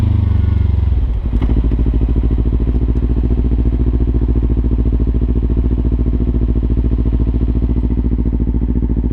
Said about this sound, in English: I was downshifting and upshifting